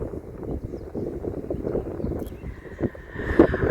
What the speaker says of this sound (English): I know it is windy